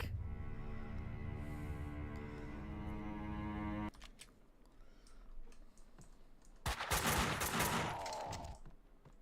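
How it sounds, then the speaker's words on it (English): Gunfire in the Max Payne video game: a sustained tone gives way to quiet, then a dense, loud burst of rapid shots near the end. "Someone must have heard the gunfire."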